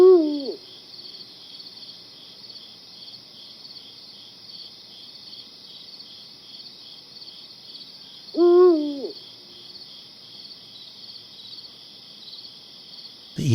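A Eurasian eagle owl calls in darkness with two deep, far-carrying hoots several seconds apart, over a steady high chirring of crickets on a quiet night.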